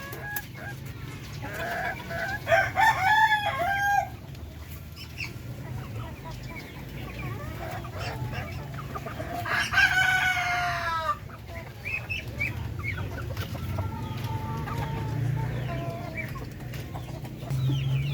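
Chickens cluck steadily in a coop while a rooster crows twice, loud and close, with other birds calling faintly in the background.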